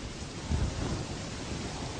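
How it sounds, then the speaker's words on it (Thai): Heavy rain pours in a steady broadband wash with a low rumble of thunder swelling briefly near the start, loud and continuous with no talk. "วันนี้ฝนตกกระหน่ำเลยเนาะ"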